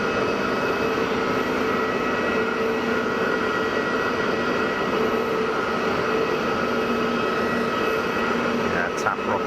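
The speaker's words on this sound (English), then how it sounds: "Let's watch this citation go. See if we can hear the spool up." Engines of a Cessna Citation light business jet at Geneva Airport, a loud steady whine and roar holding evenly throughout, with no clear rise in pitch.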